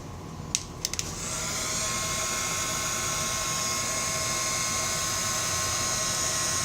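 A heat gun blowing a steady, loud whirring hiss as it heats MacBook screen glass, with a few clicks at the start before the continuous airflow tone.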